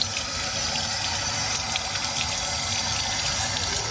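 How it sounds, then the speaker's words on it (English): Tap water runs steadily from a faucet in a Kyiv apartment, a constant close hiss and splash with no break and no talk. "I'm curious to check if this water works"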